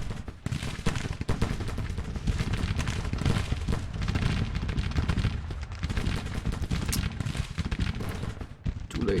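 Civil War battle in the strategy game Grand Tactician: dense, continuous crackling musket volleys mixed with rumbling artillery, a steady distant roar of massed fire with no pauses.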